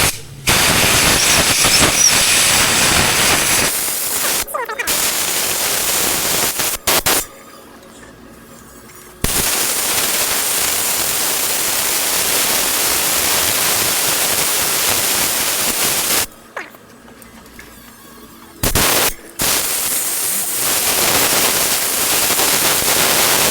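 Compressed air blasting dirt and dust out of a wheel hub on a 2005 Ford F250 during ABS sensor work: long, loud, steady hissing bursts with brief gaps between them, close by and with no talking.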